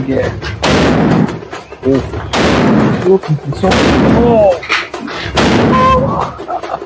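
Loud Diwali firecrackers burst in several broad blasts, each followed by crackling, with excited Tamil-speaking voices shouting and talking between the explosions.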